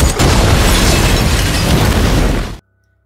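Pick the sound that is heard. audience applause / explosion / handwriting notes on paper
explosion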